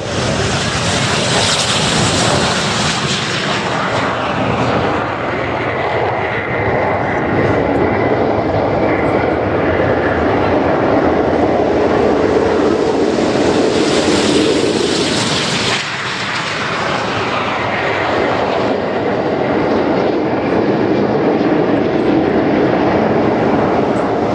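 Jet aircraft engines of the Royal Air Force Aerobatic Team roar loudly and continuously at an air show, swelling and shifting in pitch as they power up for takeoff, with a brief dip midway; voices may be faintly mixed in.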